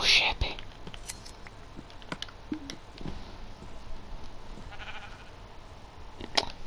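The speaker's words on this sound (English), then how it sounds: "Oh wait, sheep." Minecraft sheep give a few short bleats scattered among clicks and game sounds, while a person talks over them.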